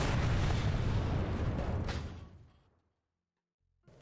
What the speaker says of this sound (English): it's got big explosions